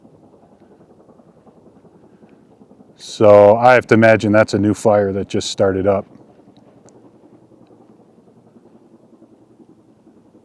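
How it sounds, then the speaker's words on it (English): A helicopter hovers over a fire on a distant mountain, heard as a faint, steady, rapid chopping drone throughout, partly covered by someone talking in the middle. "that's where the helicopter is hovering over"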